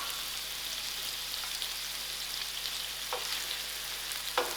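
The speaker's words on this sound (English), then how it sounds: "So while this onion is getting done, I'm going to add in my bay leaf, my cinnamon stick, my garlic, and my green chilies to it." Onion frying in a pan with bay leaf, cinnamon stick, garlic and green chilies added, giving a steady, moderately quiet hiss throughout with a couple of faint stirring clicks near the end.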